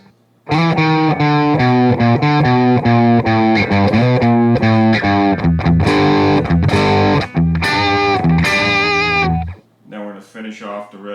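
A heavily distorted electric guitar slowly plays a riff, with picked notes and chords in a steady loud stream and a brief quieter tail at the end.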